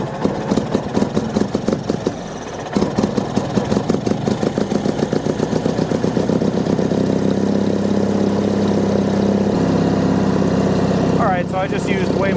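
A Bolens HT20 garden tractor engine, running on a new fuel pump, cranks over briefly, then catches and settles into a loud, steady, chugging idle close by for the rest of the stretch.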